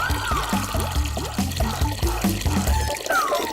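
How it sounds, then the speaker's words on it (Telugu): Tap water gushes and pours into a bucket in a household, a steady splashing stream with gurgling pulses and a rising fill tone, close and fairly loud. "నీళ్ళు వచ్చాయి."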